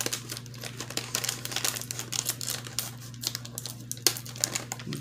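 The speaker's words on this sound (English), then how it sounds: "I'm going to cut open this pouch." Scissors cutting open a plastic pouch from a ramen and dumpling candy kit, close and fairly quiet, with crinkling plastic rustles and small snips and crackles, without any talking.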